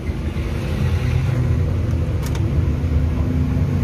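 An old Dongkrok truck engine, left standing for years, running with a continuous deep rumbling drone at close range, steady and loud with no pauses.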